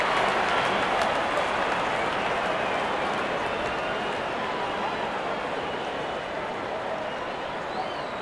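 A packed stadium crowd at an India versus New Zealand cricket Test match in Bengaluru roars after a six is hit, a loud unbroken wash of cheering and applause that holds steady for several seconds.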